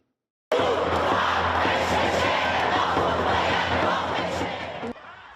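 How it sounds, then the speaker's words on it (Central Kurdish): Iranian protesters gather on a street beside the White House in Washington, a large crowd chanting and shouting together in a loud, dense, continuous roar that starts abruptly and holds steady before dropping away at the end. "ناڕەزایەتی و هوتافەکانی ئێرانەکانی دەفەری واشنگتن لە شەقامێکی تەنیش کۆشکی سپی"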